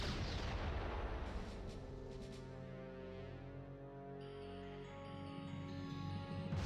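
Starship weapons fire and detonations in the space strategy game Star Trek Armada, a dense continuous barrage of booming blasts layered over a swelling musical score, loud throughout with no speech.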